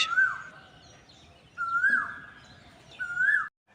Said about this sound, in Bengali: এই আওয়াজটা কিন্তু কোকিলের অরিজিনাল আওয়াজ